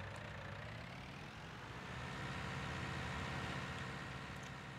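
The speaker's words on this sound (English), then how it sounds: "Gosh, that tractor's loud." A tractor engine in Farming Simulator 19: a steady, loud drone with a low rumbling idle, continuous and unbroken, with no voices over it.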